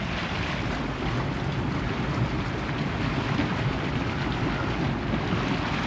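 Hot tub water at a spa bubbles and churns constantly, a dense, close, steady rush of fizzing and gurgling that holds an even loudness throughout, with no talk over it.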